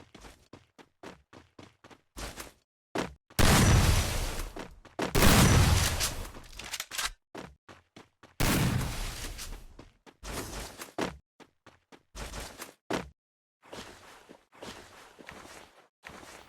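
Gunfire in the Free Fire video game during a one-on-one match: loud bursts of shots in several long volleys between shorter single cracks and quieter gaps.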